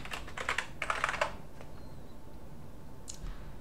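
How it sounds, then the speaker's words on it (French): Quick bursts of keystrokes on a computer keyboard as a git clone command is typed, two short flurries of clicking followed by a pause and a single faint tap, close and quiet with no speech. "je connais par cœur la ligne de commande, donc ne vous étonnez pas si je la tape de mémoire"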